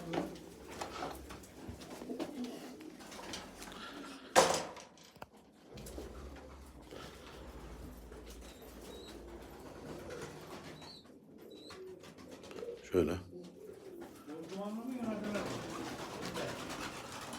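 Breeding pigeons coo softly in a loft, their low calls recurring through the clip with a couple of sharper knocks and rustles, while people talk nearby.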